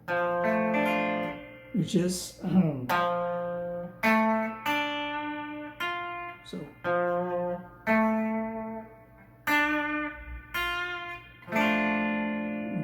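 Electric guitar rhythm chords, single stabs and short phrases played close with gaps between them, a brief spoken remark partway through.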